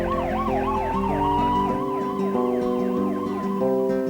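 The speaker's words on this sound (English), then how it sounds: "On the way home I heard these sirens" Emergency vehicle sirens wail on the way home, several overlapping rising-and-falling tones sweeping continuously over a low traffic rumble, loud and steady throughout.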